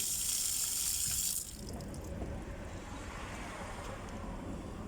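Fresh water runs steadily from an outdoor tap in a loud hiss at first, then continues more softly amid outdoor background noise.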